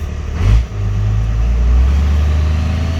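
A 2nd Gen Cummins diesel truck in low-range first gear with the transfer case in two-wheel drive rumbles loud and close, a deep steady engine drone holding under load after a brief swell.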